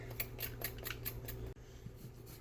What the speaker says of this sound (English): all you really need to peel garlic is a spoon